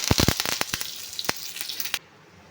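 Mustard seeds and curry leaves hit hot oil with sharp crackling and popping, a quick irregular burst of loud spits that stops abruptly.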